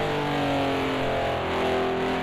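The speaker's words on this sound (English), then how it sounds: "Can hear the engine slowing down." A race car engine in Project Cars 2, a Renault RS 01 heading for the pits, drones loudly with steady harmonic tones that slowly fall in pitch as it slows. No voices are heard.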